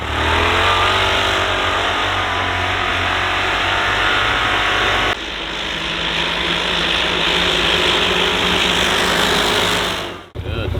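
A side-by-side UTV fitted with snow tracks drives along, its engine droning loud and steady with a broad roar of track noise, briefly shifting midway and cutting off near the end.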